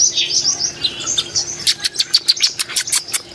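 Budgerigars and lovebirds chirp in a bird shop, a busy flock of bright, overlapping tweets that turns into a run of sharp, rhythmic calls, loud and close with no voices.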